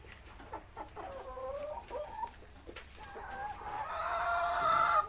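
Laying hens kept at home in a small backyard flock of just over ten birds, clucking and squawking in overlapping calls, with a rooster crow rising louder near the end, fairly close, no talk over it.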